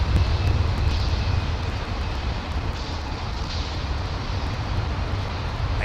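A Boeing 777 landing on runway 27L at London Heathrow gives a loud, sustained jet roar with a strong low rumble and a broadband hiss that stays fairly steady throughout.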